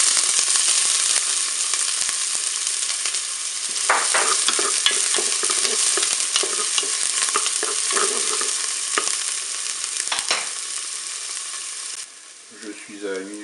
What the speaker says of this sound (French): je vais pouvoir mettre mes oignons dans la cuve pour les faire dorer